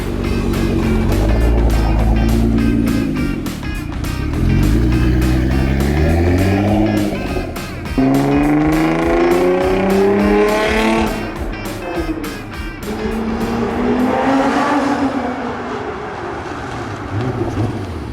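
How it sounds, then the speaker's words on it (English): A Nissan R35 GT-R engine drones steadily close by, its pitch rising and falling as the car accelerates and brakes through several runs to bed new upgraded brake pads, with no talking. "drive it up and down the street a few times, and bed the pads"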